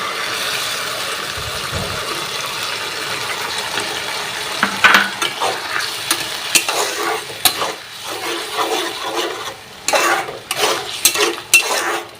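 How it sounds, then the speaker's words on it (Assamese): Hot water poured into a pan of cumin, salt and turmeric paste for an Assamese chickpea ghugni with egg, then stirred, giving close clattering scrapes and splashy sizzling bursts that grow sharper toward the end. "গৰম পানী এইখিনি দি দিছোঁ ঢালি"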